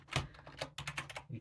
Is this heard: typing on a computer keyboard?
yes